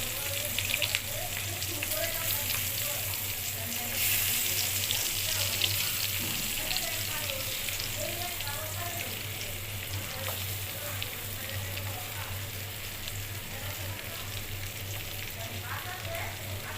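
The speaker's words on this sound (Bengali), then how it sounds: "এবার চুলায় ভেজে নিব।" Tengra fish sizzle steadily in hot oil in a pan on a stove, a loud, even crackle that runs unbroken for the whole stretch, with a faint hint of running water under it.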